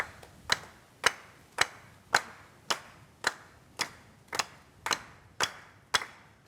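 Sharp hand claps repeat in a steady, even beat, about two per second, each one crisp and close with quiet gaps between, accompanying dancing.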